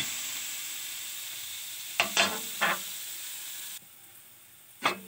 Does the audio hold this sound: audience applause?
no